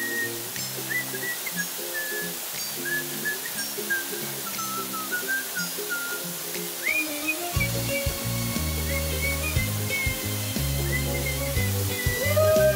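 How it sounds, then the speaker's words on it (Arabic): Ifehsa waterfall in Morocco pours with a steady, broad rush of water, continuous and fairly loud throughout, with faint tonal sounds drifting over the roar and no talking. "شلال افتا."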